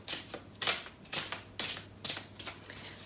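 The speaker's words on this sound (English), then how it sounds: "I'm going to use the Starman Tarot for you today, and I'll just begin shuffling" Tarot cards from the Starman Tarot deck are shuffled close by in quick riffling bursts, about five rustling sweeps in a steady rhythm with no voices.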